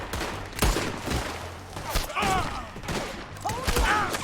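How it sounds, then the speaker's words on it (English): Gunfire crackles through a video game shootout in Red Dead Redemption 2, with several loud sharp bursts and thumps, along with brief voices and whistling game effects in between. "Told you I'd shoot a gun"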